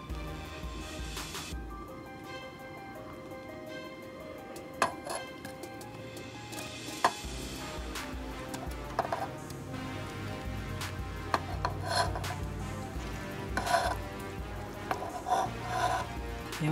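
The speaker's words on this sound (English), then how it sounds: "we're just gonna mix our broccoli into our sauce" Broccoli being mixed into a cheese sauce in a pan: soft stirring and scraping with occasional clinks of a utensil against the pan, a low sizzle underneath, fairly quiet and close.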